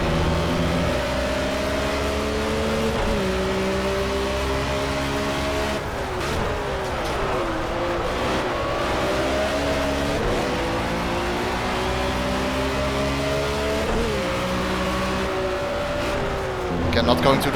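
A BMW M1 ProCar race car engine in the Project CARS racing game revs hard through repeated gear changes, rising whines dropping at each shift, loud and continuous under a speaking voice.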